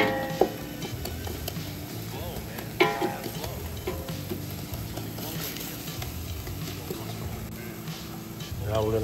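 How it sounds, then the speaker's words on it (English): A flat-bottom wooden spoon stirs and scrapes browning bolognese meat in a pot, making a continuous close sizzle with scraping strokes and a few sharp knocks against the pan. "Flat bottom wooden spoon, critical for this job."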